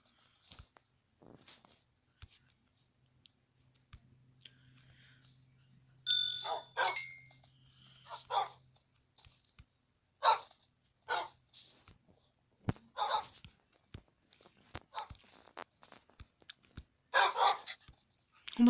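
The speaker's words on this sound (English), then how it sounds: "Oh my gosh, so many dogs." Several dogs bark in a video game, with clusters of short, fairly loud barks coming in bursts, some overlapping, over a quiet background with faint clinks.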